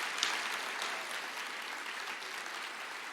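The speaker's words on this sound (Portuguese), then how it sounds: "Pode aplaudir." Applause from a church congregation during a sermon: a dense, even patter of many hands clapping together, steady and moderately loud, fading slightly toward the end over about three seconds.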